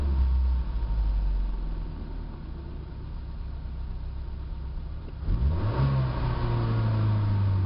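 A Honda car engine with a three-barrel Keihin carburetor hums steadily at low revs, then revs up sharply and holds a higher, louder drone; no voices.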